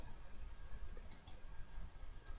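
Computer mouse clicks while operating courtroom jury-seating software, a few sharp soft clicks in two quick pairs over quiet room hiss.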